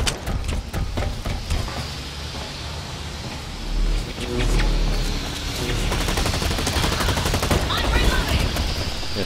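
Rapid bursts of automatic gunfire in the online shooter Blacklight: Retribution, loud dense volleys with short gaps, rattling shots stacked over a low rumble of game noise.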